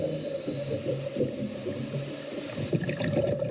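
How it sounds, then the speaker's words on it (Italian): Sea waves from an online clip, a steady wash of surf and lapping water with faint rattling texture, moderately quiet and continuous without speech. "si sente anche il rumore del mare"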